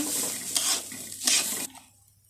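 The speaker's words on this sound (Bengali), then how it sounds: "চালটা আমার প্রায় ভাজা হয়ে গেছে, আমি আর একটু ভেজে নিব।" Raw rice being fried and stirred in a pan for white pilaf with bay leaf, cinnamon and cardamom, giving a soft sizzle with two scraping stirring bursts close by before it fades out.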